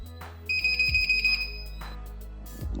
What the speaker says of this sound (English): The moment the laser beam is interrupted, the buzzer goes off instantly.